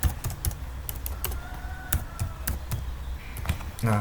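Clicky typing on a computer keyboard while entering a static route command at the command line: a steady run of close, crisp keystrokes with short irregular gaps, and no voices.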